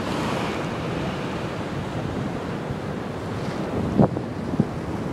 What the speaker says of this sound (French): Voilà la vague.